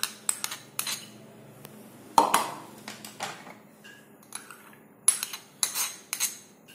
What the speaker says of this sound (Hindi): अब हमने जो चीज ग्रेट किया है हम उसको एक मिक्सिंग बाउल में डाल लेंगे।